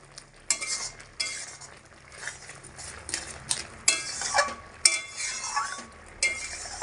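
A spoon stirs a Bengali green bean curry in a pan after garam masala powder is added, giving soft scraping and clinking strokes in uneven bursts over a faint sizzle, close and moderately loud with no talking.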